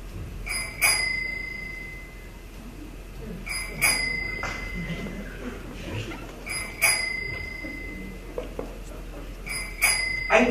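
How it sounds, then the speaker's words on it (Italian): A bell rung again and again at even intervals, four bright clusters of clear metallic dings about three seconds apart over a soft, steady background murmur. "E comincia distrattamente a suonare il campanello."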